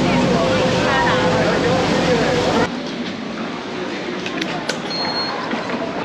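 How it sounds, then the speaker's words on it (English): A steady rush of engine and water noise rumbles under a ferry ride across Sydney Harbour towards Manly, then drops to a quieter wash with faint clinks and wind. "on the boat towards Manly."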